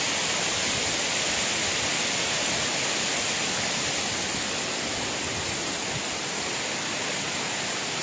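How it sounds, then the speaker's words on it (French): A tufa waterfall cascade at Baume-les-Messieurs roars in a steady, dense hiss of falling water, close and continuous, with no voices. "Et là, c'est la partie de la cascade qu'on voit rarement."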